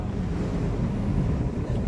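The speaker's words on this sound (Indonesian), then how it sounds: "Angin kencang sekali kita karena kita tutup nih." Strong wind rushing against a closed cable car cabin in Taif, heard as a loud, steady roar dominated by low rumble, with no talking in this stretch.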